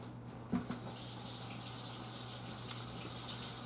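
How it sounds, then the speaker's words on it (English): Hot water runs steadily from a kitchen tap into a large can, a continuous gushing stream with a brief clunk near the start, fairly faint and without talk. "I'm going to fill this with water."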